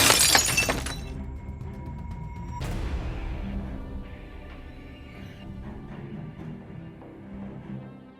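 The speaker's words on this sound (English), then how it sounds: "Breaking into a family-owned nail salon at 4 a.m., smashing the front glass" Front glass of a family-owned nail salon smashed during a 4 a.m. break-in: a loud crash of shattering glass at the start, a second sharp smash a moment later, then scattered tinkling debris and clatter fading out.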